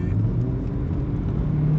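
A Hyundai Ioniq accelerates in sport mode, its steady engine and motor whir rising from inside the car, with road rumble underneath and no talking.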